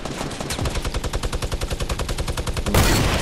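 Fortnite gunfire: a rapid, evenly spaced string of roughly two dozen sharp shots at close range, ending in a louder, denser burst.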